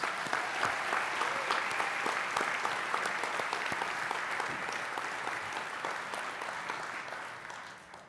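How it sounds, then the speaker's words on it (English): Audience applause for young kids at a First Tee morning gathering, a broad steady wash of many hands clapping for about eight seconds, fading slightly toward the end. "let's give them all a round of applause"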